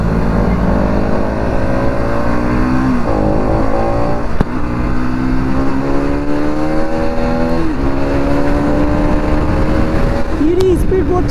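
A Kawasaki Z900 motorcycle engine runs continuously while riding on a bumpy road, with rising and falling rev sweeps and steady loud drone throughout.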